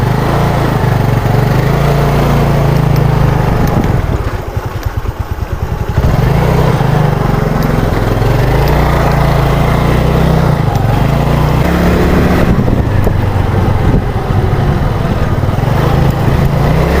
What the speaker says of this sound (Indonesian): Oke Mas Bro, motor sudah hidup.